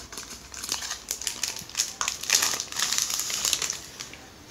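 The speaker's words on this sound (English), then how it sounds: "So let's get it out of this particular" Plastic packaging crinkles and rustles as a Logitech multidevice keyboard is unwrapped, producing a run of irregular crackling bursts at close range.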